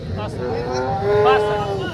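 A Murrah buffalo at a livestock market in Kashti lets out a long, loud, close bellowing moo that rises and falls over a busy market background.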